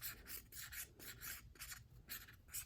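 A cotton swab soaked in rubbing alcohol scrubs marker off a tin relief art panel, giving repeated close, scratchy rubbing strokes in a steady back-and-forth rhythm, with no one speaking.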